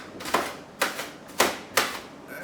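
A kitchen knife chops onions into small pieces on a cutting board, four crisp, evenly spaced taps at close range with no talking.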